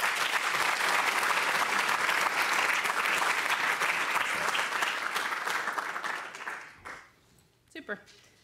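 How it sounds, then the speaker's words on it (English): Audience gives warm applause for a speaker at a Brain Awareness Week talk, sustained dense clapping that fades out over the last seconds as a voice begins. "Let's give a warm round of applause for Dr."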